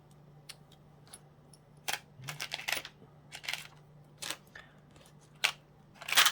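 Small screws are dropped one by one into a container, giving a close series of sharp clicks and light rattles at irregular intervals against a quiet background.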